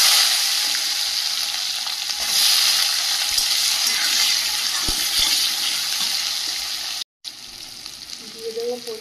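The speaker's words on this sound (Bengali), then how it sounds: "মশলাটা ভাজা ভাজা হয়ে গেছে, কুচিয়ে রাখা পেঁয়াজ আর লঙ্কাটা দিয়ে দেব।" Chopped onion and green chilli frying with whole cumin and spices in a pan, a continuous bright sizzle and hiss that runs steadily throughout, up close.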